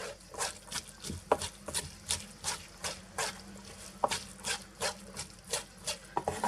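Rice and vinegar for temaki being mixed by hand with a utensil in a bowl, a steady series of soft scraping, wet slapping strokes, close up and alone.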